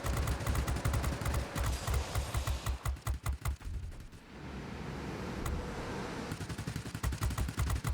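Long range aircraft guns firing in a World of Warplanes tier X bomber match, rapid bursts of gunfire in a steady staccato rhythm, pausing briefly before resuming under a constant engine drone.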